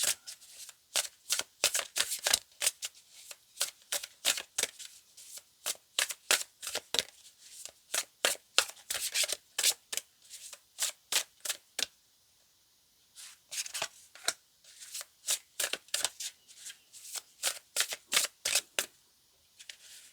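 Lemurian oracle cards are shuffled in repeated quick bursts of crisp riffling and flicking, close and fairly quiet, with a short pause near the middle and no talk.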